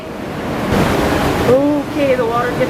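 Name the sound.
water near waterfall in slot canyon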